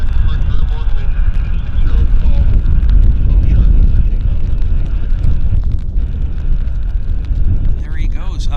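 An airliner takes off at Vancouver Airport, its engines a loud, steady roar that mixes with heavy wind buffeting on the microphone and holds throughout.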